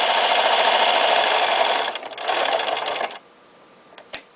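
A Bernina 1230 sewing machine running a straight stitch, a loud steady whirring buzz that stops briefly, resumes for a second, then cuts off, followed by a faint click.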